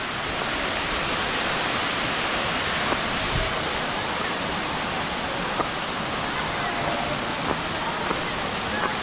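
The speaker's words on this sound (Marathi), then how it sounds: "इकडे मंडळी धबधबा बघा धबधबा कसला कोसळते पाणी" Waterfall at Jejuri in heavy monsoon rain, with water crashing down at full force; a steady, dense roar fills the whole stretch, loud and close, with a few faint knocks on top.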